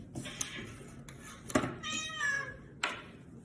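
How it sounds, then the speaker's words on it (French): A house cat meows several times indoors during a crochet session, fairly close, with a few short separate calls and one drawn-out meow, alongside soft knocks and thuds, and no talking. "Le chat est chiant."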